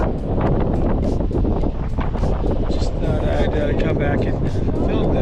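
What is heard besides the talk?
wind blowing into the microphone outdoors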